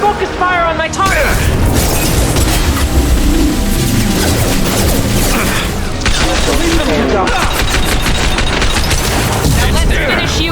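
Combat gunfire in the Mass Effect 2 game, a loud continuous barrage of rapid weapon shots with impacts and mechanical clatter, dense and close throughout, with voices shouting over the fighting.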